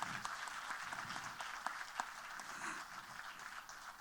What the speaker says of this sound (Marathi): एवढ्या सगळ्या अचिव्हमेंटसाठी भरपूर टाळ्या नॉनस्टॉप झाल्या पाहिजेत